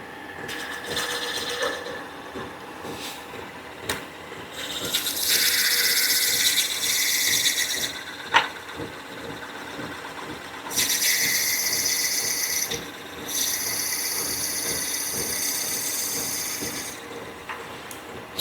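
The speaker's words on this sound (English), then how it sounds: "I just started drilling, like literally maybe 1/4 of an inch as far as I can go." A drill bores about a quarter inch into a 3D printed resin cast honeycomb pen blank, giving bursts of harsh grinding and rasping separated by quieter pauses, close and loud with no talking.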